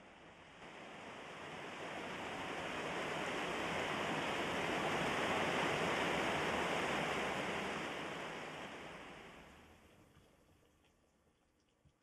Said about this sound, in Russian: Когда волны пенятся между гладкими гранитными скалами, вода становится даже белой